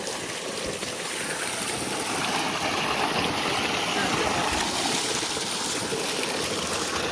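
Water gushing steadily from a farm borewell, a loud continuous rushing splash close by that swells slightly midway, with no talking.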